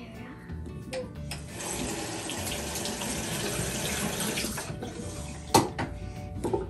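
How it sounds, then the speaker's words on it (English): Steady broadband rush of water running from a bathroom tap during tooth brushing, continuous for several seconds, with a sharp clink near the end and faint voices. "Turn the water on."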